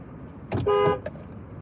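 A car horn sounds in the street at a car backing up, one short toot followed by a longer steady honk and a brief final tap, loud and close with no talk.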